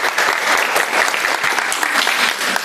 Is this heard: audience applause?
yes